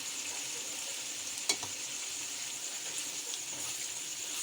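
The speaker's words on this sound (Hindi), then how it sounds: "अब हम इसमें चने की दाल शामिल करते हैं," Boiled chana dal going into a pan of cooked spinach, with a steady close frying sizzle throughout and one brief sharp knock near the middle.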